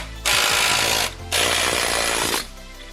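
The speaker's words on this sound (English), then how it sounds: "It's an air hammer." Pneumatic air hammer rattles loudly in two sustained bursts, about a second each with a brief pause between, while working on car suspension during a Nissan 350Z drift build in a garage.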